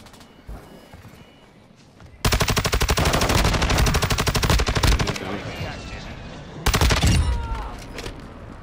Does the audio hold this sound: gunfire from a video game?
yes